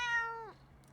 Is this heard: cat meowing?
yes